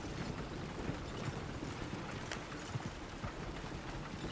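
Horse hooves clip-clop at a steady walking rhythm on a road in the video game Red Dead Redemption 2, moderately close under a constant outdoor ambience.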